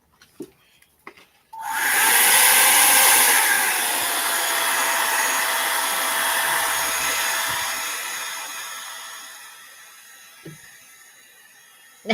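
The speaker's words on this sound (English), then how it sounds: "Where'd my hair dryer go?" A hair dryer switches on after a few soft clicks and runs as a loud, steady whirring blow with a high whine. It eases off slightly over time before cutting out near the end.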